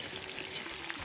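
Lamb ribs fry in oil in a kazan, giving a steady close sizzle with a faint low hum beneath and no talking.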